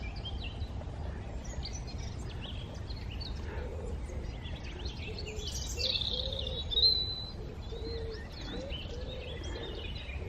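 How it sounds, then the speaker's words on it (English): Small birds chirp and twitter intermittently in the distance over a steady low outdoor rumble, with one brighter, louder call briefly standing out. "You can probably hear all sorts of birds and stuff twittering."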